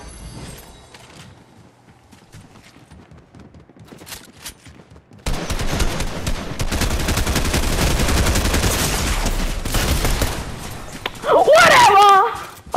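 Light machine gun in Fortnite firing sustained loud bursts that rattle on for several seconds after a quieter stretch, with gameplay effects layered in and a sharp final flurry near the end.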